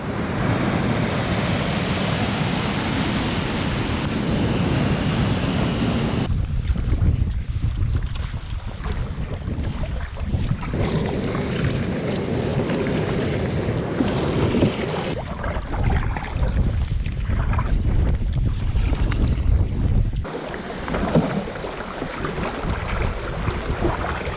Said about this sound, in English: Paddling through this tough headwind, just got to the first class 1.